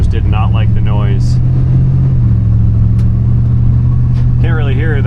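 Modified truck exhaust drones steadily from inside the cab while driving, a loud constant low rumble throughout, with brief talk over it at the start and end.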